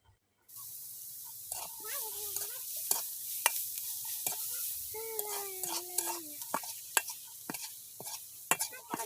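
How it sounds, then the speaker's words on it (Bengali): Onions frying in a little oil in a village-style kitchen, a steady faint sizzle broken by sharp clicks and scraping stirs, with a voice heard faintly behind it. "যতক্ষণ না কাঁচা গন্ধটা যায় ততক্ষণ পর্যন্ত আমি ভেজে নিব"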